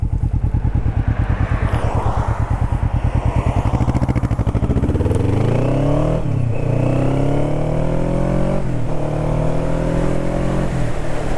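A Kawasaki Vulcan S motorcycle engine close by, first idling with a rapid steady chug, then revving up in rising pulls with a couple of throttle blips as it moves off, loud and without talk.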